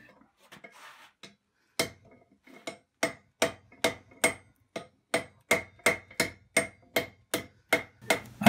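Hammer striking rebar on an anvil to curl the end of a knife handle into a pommel, a steady run of sharp ringing blows after a few lighter taps, close and loud.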